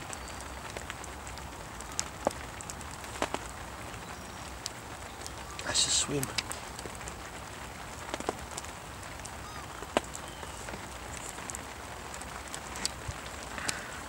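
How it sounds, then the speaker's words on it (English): Steady rain patters on surfaces in a quiet outdoor spot, a soft continuous hiss dotted with sharper drops, while someone speaks briefly over it. "Bloody rain."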